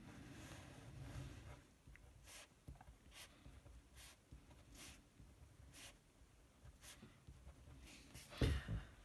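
A pen taps dots for electrons onto paper, a series of brief, evenly spaced ticks at close range over a quiet room, ending in a louder shuffling rustle.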